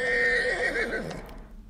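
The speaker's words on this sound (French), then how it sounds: "des chevaux de Przewalski. Ce sont des chevaux sauvages que l'on peut voir ici." Wild Przewalski's horses neigh, one clear whinny with a rising and falling pitch, close and fairly loud, fading out near the end against a quiet outdoor background.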